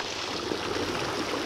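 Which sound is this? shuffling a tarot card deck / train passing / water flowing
water flowing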